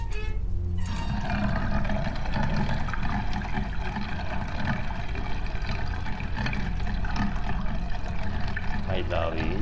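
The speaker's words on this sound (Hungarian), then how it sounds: "Megy le a víz." Water draining away in the horror video game Whispering Lane, a steady rushing, pouring wash that holds level for the whole stretch, with a voice talking over it.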